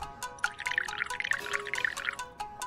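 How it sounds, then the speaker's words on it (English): Soup stock for tsukemen is poured from a bottle into dipping soup, making quick gurgling glugs and liquid splashes in an uneven rhythm, close and clear with no voices. "This is soup stock, so let's pour it to dipping soup."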